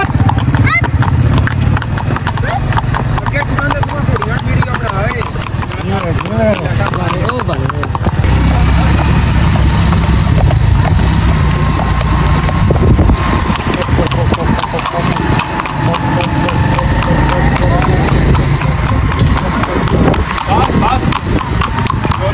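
A Marwari mare's hooves clip-clop steadily on a hard surface, the beats partly buried in a dense, loud mix with people talking over them throughout.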